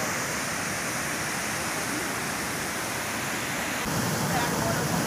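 Waterfall on the Samburá river near the headwaters of the São Francisco, a steady, dense roar of falling water that fills the whole clip without letup, growing slightly louder toward the end.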